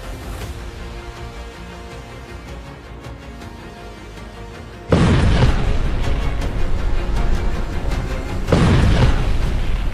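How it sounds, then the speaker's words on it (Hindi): Two heavy blasts from fighting in southern Lebanon strike about halfway through and again near the end, each a sudden loud broadband boom with a long rumbling tail over a steady background din. "धमाका नंबर 2"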